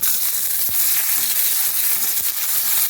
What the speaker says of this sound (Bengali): পেঁয়াজগুলো একটু ভাজা ভাজা হয়ে যাবে।